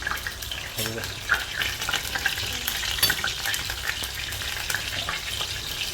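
Asafoetida dropped into hot oil for Rajasthani kadhi, a continuous sizzle and spattering fry with stirring clinks close by, with a faint voice briefly in the background.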